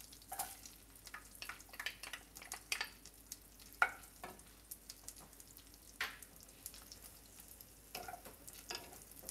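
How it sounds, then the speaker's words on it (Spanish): Onion going into hot butter and oil for buttered white rice, giving a faint, soft sizzle with scattered light crackles and a few clinks, heard alone at a distance. "Voy a agregar la cebolla."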